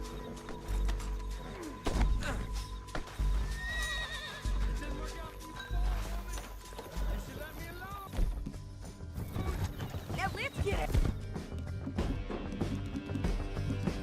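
Horses gallop and whinny in a Red Dead Redemption 2 action sequence, hooves clopping rapidly under shouted dialogue, gunfire-like cracks and a music score, with repeated neighs rising above the mix.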